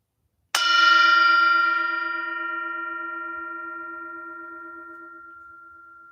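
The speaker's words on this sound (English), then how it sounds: "Enjoy the bell." A single bell is struck once and rings out alone with a clear metallic tone, its rich overtones fading slowly over several seconds in quiet surroundings.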